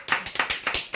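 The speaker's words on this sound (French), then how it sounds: "Applaudis, Denise." Brisk applause from a small group, sharp claps in a rapid, uneven rhythm, close and fairly loud, with no voices.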